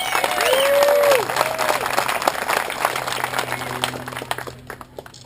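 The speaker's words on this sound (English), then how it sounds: "Give yourself a round of applause." Applause from a crowd of off-road buggy club members at a driver meeting, loud and dense at first, then thinning into scattered claps that fade out, with a whistle-like cheer early on.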